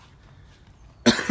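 A single sharp cough bursts out close up in a quiet garden, loud and abrupt after a second of near silence, followed by a second short hack.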